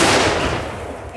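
AK47 firework mortar going off outdoors, one loud close blast with a rumbling tail that fades over about a second.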